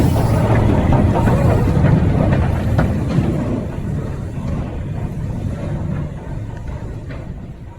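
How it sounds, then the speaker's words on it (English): Heritage train reversing along the East Lancashire Railway track, a continuous heavy rumble that slowly fades as it moves off. "I'm going to wait for it to come reverse back"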